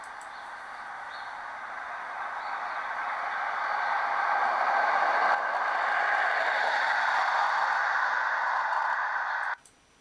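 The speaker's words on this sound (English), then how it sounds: "You heard this vehicle 7 seconds before it passed in front of you." A vehicle approaching on a road, a steady broadband rushing hiss of tires and engine that slowly swells louder over several seconds, then cuts off abruptly near the end, with no talking.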